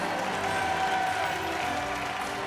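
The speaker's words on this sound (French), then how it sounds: "On applaudit très très fort, évidemment" A TV studio audience claps hard and loud at a Christmas charity game show, a dense, continuous burst of applause with no voices on top.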